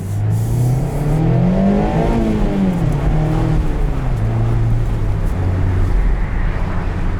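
A 2020 Mazda MX-5 Miata Sport with a manual gearbox and 180 horsepower accelerates hard to 40 mph, its engine note climbing, dropping at a gear change and rising again, loud and close from inside the cabin.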